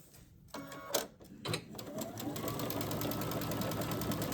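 A sewing machine stitches down the side of a piece of fabric, starting with a few short bursts and then running in a steady, fast mechanical whir with rapid ticking needle strokes.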